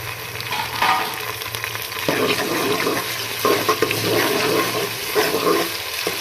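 Tomato, green chili and ginger-garlic paste sizzle and crackle in a hot pan with occasional stirring scrapes, a steady frying hiss close by with no talking.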